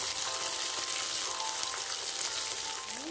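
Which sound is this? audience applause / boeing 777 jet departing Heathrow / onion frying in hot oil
onion frying in hot oil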